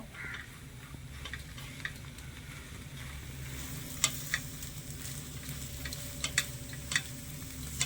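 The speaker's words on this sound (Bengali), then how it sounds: "সবকিছু ভালোভাবে নেড়ে ছেড়ে মিশিয়ে একটু ভেজে নিয়েছি" Spiced potato filling for patties being stirred and fried in a pan, with a steady soft sizzle and occasional sharp scrapes and clicks of the spoon, close and without talk.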